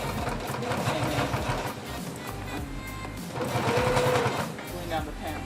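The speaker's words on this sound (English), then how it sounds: "So sew a little bit forward, backward, and then come back forward again" Sewing machine stitching pants, a close mechanical whir running in bursts as the seam goes forward, backward and forward again, with a person talking over it.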